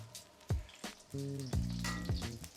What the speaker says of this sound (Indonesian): Jadi kita akan menggoreng dimsum.